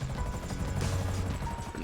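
A helicopter flies in the GTA Online game, a steady dense rotor roar with rhythmic chopping throughout, loud and close, with no other sounds standing out.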